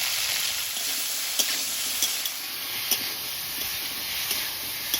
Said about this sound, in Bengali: চিংড়িটা একেবারে এই তেলে ভেজে নিলাম